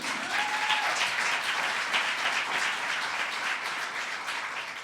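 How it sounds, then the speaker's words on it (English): Steady applause fills a room at a Pennsylvania press conference on disability and autism protections, a dense even wash of many hands clapping that tapers slightly toward the end. "you should clap for them."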